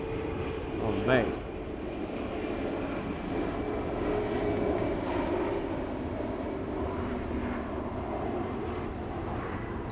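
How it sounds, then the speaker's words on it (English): A steady, broad roar of aircraft near Raleigh Durham Airport rumbles beneath gusty wind at a lakeside bank, with a brief voice near the start. "Excuse the noise, we are out here by the airport"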